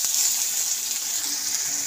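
Onion and dried red chillies with black cumin (kalonji) sizzling in hot oil in a pan, a steady close hiss that runs unbroken and fairly loud for the whole moment, with no one talking.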